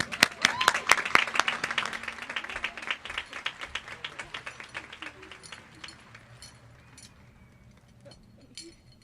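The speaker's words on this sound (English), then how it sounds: "Let's give a round of applause to your salutatorian," Graduation crowd at Coral Springs High School's 2021 ceremony applauds the salutatorian, starting as loud dense clapping that thins into scattered individual claps and fades, with faint murmuring beneath.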